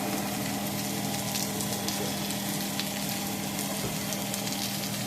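Cooking wine sizzles in a hot pan of chitlins, a loud continuous frying hiss with a low steady hum underneath and no break.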